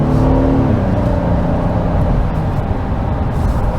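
A 2022 Honda Passport EXL SUV accelerating on throttle from inside the cabin, a loud continuous engine drone with low rumble and road noise, steady throughout.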